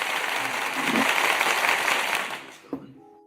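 Guests on a reaction show get a round of applause: dense clapping and cheering that fills most of the stretch, then fades out near the end. A single sharp knock lands in the quieter tail.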